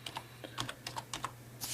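Quick, light clicks of typing on a computer keyboard, about a dozen keystrokes in an uneven rhythm, close and fairly quiet with no talk.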